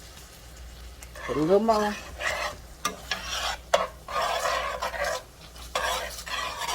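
A spoon scrapes and stirs thickening flour gravy in a pan for Southern smothered pork chops. Rough scraping strokes and clinks sound close over a low sizzle, while someone talks briefly over the stirring.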